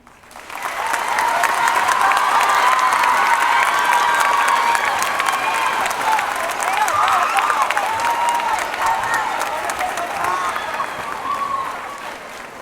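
Loud, sustained applause with cheering and whoops from a crowd at a class of 2030 graduation ceremony, honoring student speakers; the clapping swells quickly and holds steady throughout, with scattered shouts rising above it.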